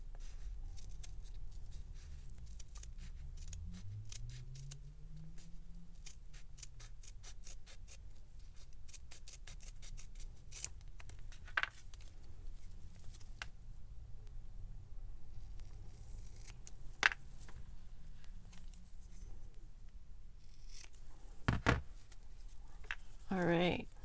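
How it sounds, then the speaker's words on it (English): Sticky scissors snip fabric tape and eyelet trim in quick, light cutting strokes, faint and close, with soft rustling handling between cuts and a person talking in parts. "I am using my sticky scissors right now"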